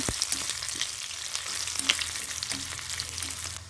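Steady crackling sizzle of seeds and garlic frying in hot oil, with scattered pops throughout, close and continuous.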